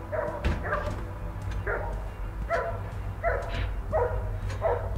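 Dog barking in the video game The Nightfall: a string of quick, regular barks and yips, close and moderately loud over a low droning game ambience, with no voices.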